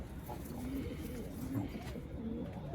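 Pigeons in a loft give soft, repeated throaty coos, faint and close, over a low background murmur.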